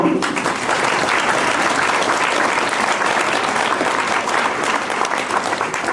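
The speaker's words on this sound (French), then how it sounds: "On peut l'applaudir." An audience gives steady, loud applause at a talk on the architecture of Oscar Niemeyer, honouring an architect who worked on the building from 1968 to 1970; dense clapping fills the whole stretch without a break.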